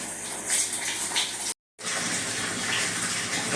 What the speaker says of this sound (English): we're going to put the water to it and watch it fill up